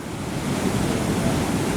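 Ocean surf breaks steadily on a beach with five-foot sets, a broad, close rushing wash with wind buffeting the microphone and no distinct individual crashes.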